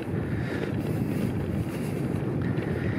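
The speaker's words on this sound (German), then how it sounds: "Es ist ein bisschen windig heute" Steady wind rumbling and buffeting against a microphone while cycling, a continuous low roar with no voices.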